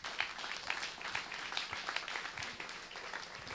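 Congregation applauding during a church service, a steady wash of many hands clapping at moderate volume throughout, with faint voices mixed in.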